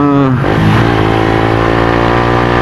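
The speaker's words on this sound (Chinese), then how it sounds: "然后他这个排气管改起来蛮好听的" A Suzuki GSX-R150 with a modified exhaust revs loudly and close, the engine note dipping briefly and then climbing into a sustained, buzzing high-revving tone.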